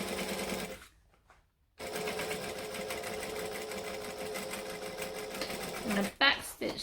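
A sewing machine back stitching a cabin bag runs in a rapid, steady mechanical whir, pauses briefly, then resumes close and clear before a short clunk near the end.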